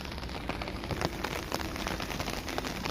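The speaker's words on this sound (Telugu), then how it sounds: "అంటే ఈ వర్షంగా ఉంది కదా" Steady rain pours onto surfaces, a dense continuous hiss scattered with sharper droplet taps, close and fairly loud throughout with no voices.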